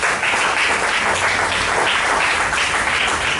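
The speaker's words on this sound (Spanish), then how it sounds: "Den un aplauso a Jesucristo" A church congregation applauds throughout, a loud, even wash of many hands clapping close by with no pause or voices.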